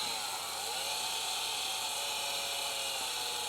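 Chainsaw running steadily while cutting into wood to shape a piece of furniture, a continuous loud buzzing whine throughout with no pauses or talk.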